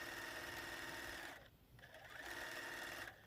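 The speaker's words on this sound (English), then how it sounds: "I really wanted you to be able to see the seams as I sew them, joining all of these pieces together" A sewing machine runs steadily, stitching quilt fabric pieces together for an Americana sampler quilt block, with a brief pause midway before the motor hum resumes and cuts out near the end.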